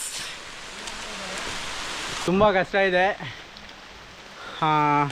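Rain pours steadily on the Kumara Parvata mountain trek as a dense, close hiss for the first couple of seconds, then fades back under nearby speech.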